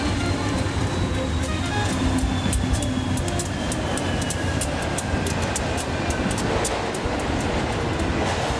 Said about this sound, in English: Right after that train comes another one